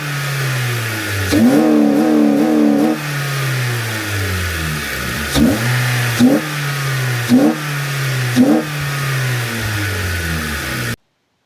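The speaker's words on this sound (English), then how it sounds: "I want to start it up and hear what it sounds like right now" A Honda Civic with a cold air intake idles close by, then its engine revs hard in one long burst followed by several short, sharp blips over a steady idle, loud and near, with no talking.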